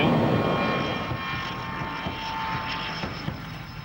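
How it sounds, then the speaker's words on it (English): A high-altitude spy plane coming in to land, its engine a loud, sustained roar that slowly eases in level over several seconds, alone with no voices. "Even landing this unique plane takes incredible skill and concentration."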